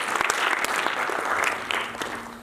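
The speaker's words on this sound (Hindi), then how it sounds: "जोरदार तालियां एक बार इन लोगों के लिए जो MDRT कर" Dense, loud applause from a seated audience at a company meeting, honoring members who achieved MDRT, a steady wash of many hands clapping with sharp individual claps throughout.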